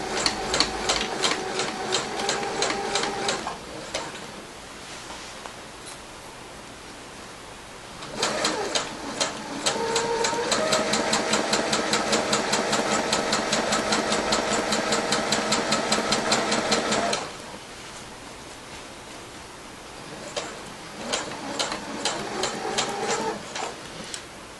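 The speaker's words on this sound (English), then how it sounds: "right now I'm just sewing in the baffles" A sewing machine stitches baffles into a down underquilt made of Argon 67 fabric, running in fast close bursts with a long steady stretch in the middle and short pauses between runs.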